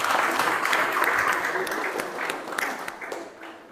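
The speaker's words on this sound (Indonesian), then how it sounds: "Mari kita berikan aplaus juga kepada mereka." A congregation applauds at a Catholic Christmas mass, with dense, steady clapping that fills the space and slowly tapers off toward the end.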